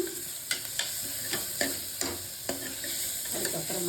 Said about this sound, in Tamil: இஞ்சி பூண்டு பேஸ்ட்டு சேர்த்து அதையும் பெரட்டணும்